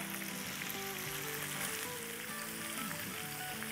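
Tandoori tikka pieces frying in a pan over a medium-high flame give a steady, close sizzle with crackling spatter throughout, broadband and continuous with no voices.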